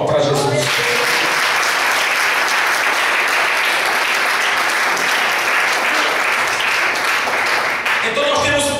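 A church congregation at a vigil service claps loudly for Jesus, a thick, uniform wall of applause sustained for several seconds, with the preacher's voice briefly audible at the start and end.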